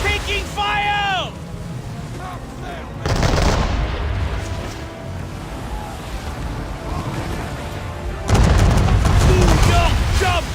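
Gunfire and booming blasts strike the ship Belladonna in the Assassin's Creed 3 naval battle. Two loud, sudden bursts break in over music and voices, with rumbling fire between them.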